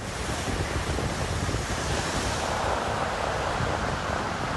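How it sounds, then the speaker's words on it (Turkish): Rough sea surf churns continuously with strong gusting wind blasting the microphone, loud and unbroken, during a storm in Izmit, Kocaeli, Turkey. "Kocaeli İzmit'te ise sağanak ve fırtına denizi taşırdı."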